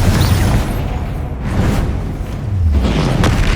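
Confringo fire spell explosion in the game Hogwarts Legacy: a loud, dense booming roar with deep rumbling, sustained throughout with swelling bursts and whooshing flares, no voices.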